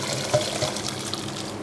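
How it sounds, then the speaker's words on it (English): Hot boiled liquid with a small bay leaf is poured over beef for an Australian steak pie, giving a steady, close splashing flow at full strength that runs through the whole short moment without talk. "add just 1 small bay leaf and pour this over the beef"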